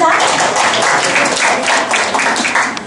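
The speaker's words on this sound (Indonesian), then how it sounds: "tepuk tangan sekali lagi buat Mbak Lisa." An indoor audience gives Mbak Lisa a fresh round of applause: continuous, loud, close clapping from many hands for about three seconds, with a few voices mixed in.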